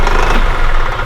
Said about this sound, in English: You can see this engine starts right up